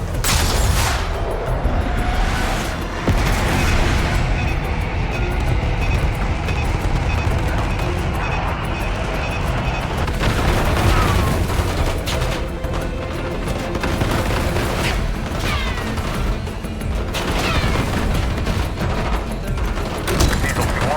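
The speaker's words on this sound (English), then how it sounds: "Airstrike! Bombs away." Airstrike bombing and gunfire in the video game Call of Duty Black Ops 6, a dense, continuous barrage of booming blasts and rattling shots that stays loud throughout, with radio voices briefly heard over the din.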